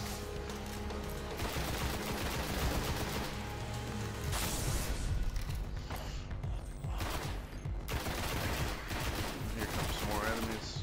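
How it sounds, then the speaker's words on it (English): Shotgun blasts against enemies in Destiny: The Taken King, several heavy booming shots spread across a busy stretch of game noise and music, with a voice talking beneath. "You hit them with a shotgun."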